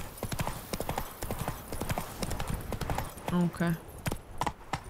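Roach the horse gallops in The Witcher 3: Blood and Wine, hooves beating in a steady rapid clip-clop with a brief snort or whinny midway, close and clear, while a voice speaks briefly over it.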